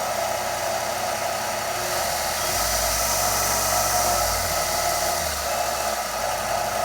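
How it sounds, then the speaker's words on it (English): A Riken 1-inch by 30-inch variable-speed belt sander with a side disc sander runs steadily on its own, a continuous high whirring hiss that deepens slightly in pitch partway through as the speed changes. "It's a Riken 1" by 30 belt sander with a 6" disc sander on the side."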